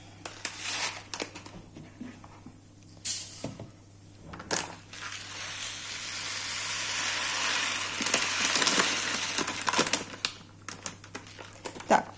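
Dry rice grains poured into a measuring cup in a home kitchen, a steady rattling hiss that swells and fades, with scattered clicks and knocks around it.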